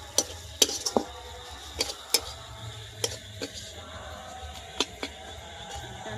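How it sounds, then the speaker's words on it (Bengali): A pan of Bengali fish head curry (muri ghonto) with chili paste being stirred, giving a series of sharp, irregular clinks and scrapes of a spoon against the pan over a low background hum. "লঙ্কা বাটাটা দিয়ে আবার একটু নেড়ে নেব।"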